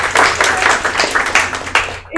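A small group at a sales meeting gives a short round of applause. The claps are close, loud and uneven, and they stop abruptly after about two seconds.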